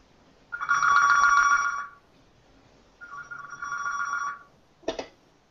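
A telephone rings in two long electronic trills with a pause between them, clear and close, followed by a brief click as if the handset is picked up.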